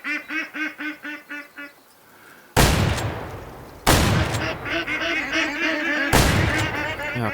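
Rifle shots ring out in the Way of the Hunter hunting game: three loud, sharp reports spaced a second or two apart, each trailing into a lingering echo, with rhythmic duck quacking audible before the first shot.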